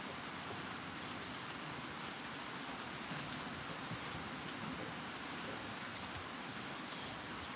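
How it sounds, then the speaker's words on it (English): Steady rain falling outdoors in a light breeze, a dense even hiss of drops on surfaces, soft and constant throughout with no voices. "It is a nice breeze with this rain."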